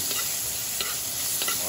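Onions sautéing in a pan, a soft continuous sizzle with a few light scraping stirs of a spatula, close and quiet without voices.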